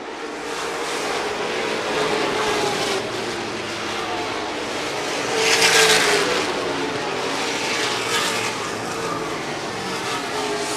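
Race cars lap a track at Seven Rivers Racing with a continuous, broad engine roar that swells loudly as the pack passes midway, then settles back to a steady din.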